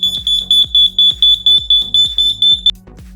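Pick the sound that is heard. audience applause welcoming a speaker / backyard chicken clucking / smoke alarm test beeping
smoke alarm test beeping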